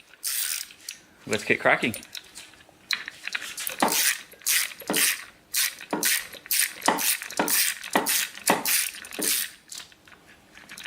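A ratchet clicks in short, rapid bursts while loosening an engine belt tensioner bolt, close and sharp with brief pauses between strokes, and a voice speaks briefly near the start.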